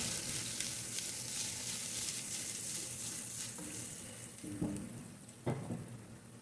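Two whole heads of garlic fry in a pan for a trevally escabeche, giving a steady, quiet sizzle throughout, with a couple of sharp clinks and scrapes near the end and no voices.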